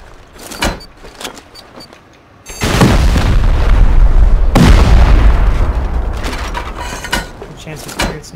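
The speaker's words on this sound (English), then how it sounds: "C4 the door, and then we'll get the furnace after the turret's dead" A C4 charge blows a door in the survival game Rust: one sudden loud boom hits, then a long rumbling roar rolls on and fades slowly, with sparse game sounds and faint voices around it.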